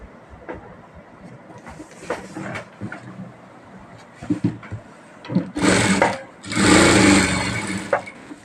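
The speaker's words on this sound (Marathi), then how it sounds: "याच्यावर पूर्ण शिलाई टाकून घ्यायची आहे" Bursts of a sewing machine stitching blouse fabric for a round-neck design, short irregular runs of rapid mechanical clatter that grow louder and longer toward the end.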